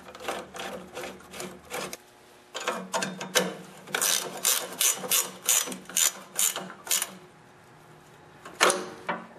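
A 7/16 bolt being reinstalled under an older 8 HP Briggs & Stratton carburetor, heard as repeated rapid ratchet clicking in short bursts with brief pauses, close and fairly loud, with no talking.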